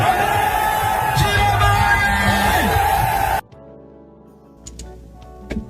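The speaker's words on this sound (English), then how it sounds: "That is a crowd in Douala" Dense crowd noise at a political celebration in Douala, with whoops and yells rising from a packed gathering, loud and continuous for over three seconds before cutting abruptly to a much quieter scene with a few sharp sounds.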